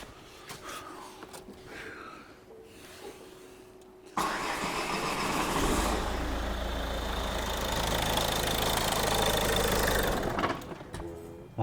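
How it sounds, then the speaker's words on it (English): A Ford Mondeo MK4 car engine, just after a fuel filter change, cranks and catches abruptly after a few quiet seconds of faint shuffling, then runs at a loud, rough idle for about six seconds before cutting out. "This car will now start first time."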